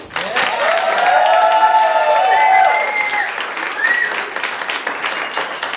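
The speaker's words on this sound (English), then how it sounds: "let's give another round of applause" Applause and cheering from the audience at an improv comedy show, with whoops and shouts riding over sustained clapping that swells early, stays loud and then tapers a little.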